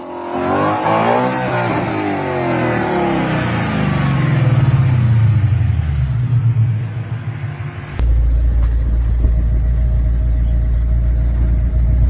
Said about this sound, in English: Taking a Ford Mustang into sand is like wearing dress shoes to the beach.